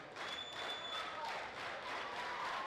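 Crowd cheering and clapping in a high school gym during a volleyball match, a steady roar held at even loudness throughout, with a faint whistle-like tone above it.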